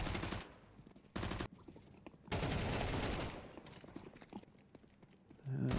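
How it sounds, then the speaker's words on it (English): Desert Eagle pistol shots in a Counter-Strike esports match, a few sharp loud cracks in separated bursts, mixed with game footsteps, ambient effects and low commentator-style background. "a couple of nice Deagle shots"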